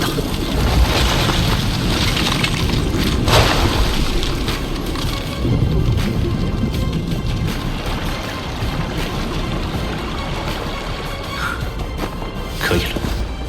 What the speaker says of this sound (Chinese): 冰爆术有瞬时和蓄力两种引爆方式，瞬时引爆的优势是猝不及防，而蓄力能够将爆炸的威力提升到最大